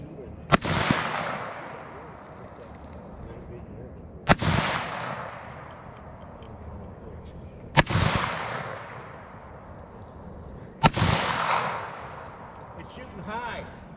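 AK-47 rifle gunshots at an outdoor range, four single loud cracks spaced several seconds apart, each ringing out with a long echoing tail.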